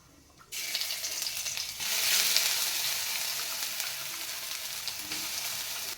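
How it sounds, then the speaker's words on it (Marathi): Ground bitter gourd dropped into hot oil with cumin seeds, a sudden sizzling burst that settles into a steady frying hiss close up, no voices. "जिरं छान फुललं की आपण हे वाटून ठेवलेलं कारलं घालायचं"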